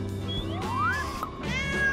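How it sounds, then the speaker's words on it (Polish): A cat meows several times in quick succession, including a rising drawn-out meow, close and fairly loud over a steady low background hum. "Kot również postanowił zjechać."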